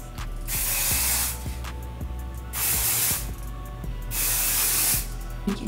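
Garnier Fructis hairspray sprays in three long, loud hissing bursts close to the microphone. Faint clicks and handling noises fill the short gaps between them.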